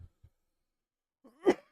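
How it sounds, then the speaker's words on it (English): A single short cough, close and fairly faint, follows a brief throaty sound, with near silence before it. "it's getting really hard to not cough"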